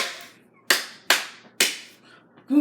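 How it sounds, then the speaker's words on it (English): Hands clapping in a room, three sharp separate claps spaced about half a second apart, each with a short ringing decay, followed by the onset of another sound. "Clap."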